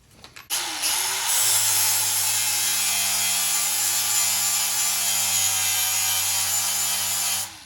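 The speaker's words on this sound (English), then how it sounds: "Get on our 120 grit flapper wheel." A big grinder fitted with a 120 grit flap wheel spins up after a few handling knocks, then grinds at a steady, loud whine for about six seconds while working on wheel spacer parts for a Toyota Land Cruiser 100 Series.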